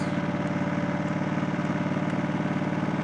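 The small engine of a grass-cutting machine idles steadily just after starting, a close, even, rhythmic chug with no other sounds.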